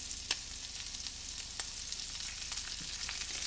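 Shrimp fry in a pan with a steady, fairly quiet sizzle that continues throughout, broken by a few brief sharp crackles and pops.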